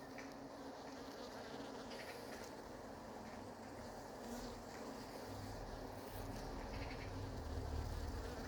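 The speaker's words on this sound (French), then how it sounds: "J'ai vu un frelon monter en haut de la tente. Voilà, il est captif." A hornet trapped inside a tent at an apiary buzzes with a continuous, fairly faint drone that holds steady throughout, with a low rumbling hum underneath and no voices.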